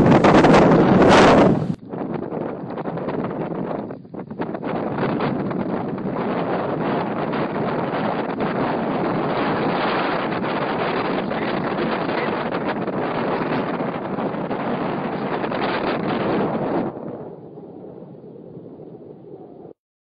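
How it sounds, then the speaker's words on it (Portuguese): Strong wind roars steadily against the microphone for a long stretch, briefly louder at the start, then easing to a softer rumble near the end. "Esse é o barulho do vento."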